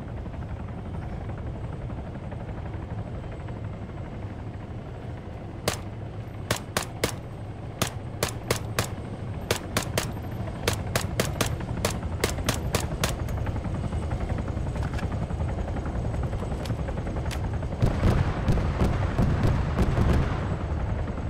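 Helicopters attack in a video game, their rotor drone running throughout while bursts of sharp gunfire crack in quick repeated volleys, growing denser near the end.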